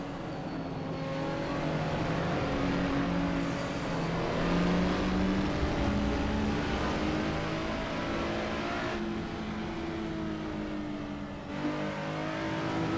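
A turbocharged race car in the Assetto Corsa racing game roars steadily with shifting engine tones and revving, loud and sustained for the whole stretch, with no talking over it.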